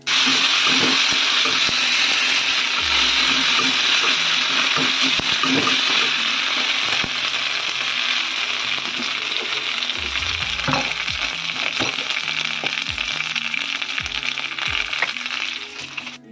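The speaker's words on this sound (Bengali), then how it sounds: "যদিও মশলাটা আমি কিছুক্ষণ ভেজে নিলাম" Ground garam masala and a ginger-fennel paste fry in hot oil with a loud, dense, continuous sizzle, occasional stirring scrapes and clinks breaking through, close up.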